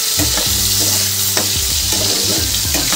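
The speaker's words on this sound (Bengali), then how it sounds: "আলুটাকে ভালো করে লাল লাল করে ফ্রাই করে নেবো" Potatoes dusted with turmeric fry loudly in oil in a wok, a close, intense sizzle broken by scraping and clattering as they are stirred.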